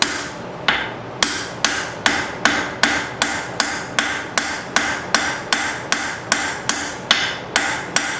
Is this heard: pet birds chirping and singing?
no